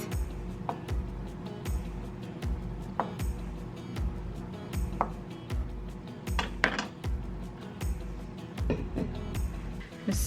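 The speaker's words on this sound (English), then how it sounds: "now I'm going to quarter my hard-boiled eggs" A knife quartering hard-boiled eggs on a cutting board in a home kitchen gives steady, evenly spaced dull thumps, roughly one per second, each with a light click, close and moderately loud with no talking.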